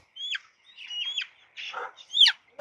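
Layer chicks on a poultry farm give sharp, high chirps and squawks during fowl pox vaccination, in five or six quick, close bursts with short gaps between them and no voices.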